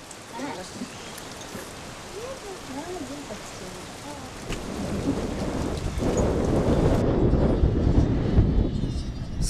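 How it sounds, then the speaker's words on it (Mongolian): Steady rain with thunder, the rain about to turn to wet snow, swelling into a loud, broad rumbling downpour in the second half, with faint voices early on. "Саяхан орсон бороо нойтон цас болон хувирч"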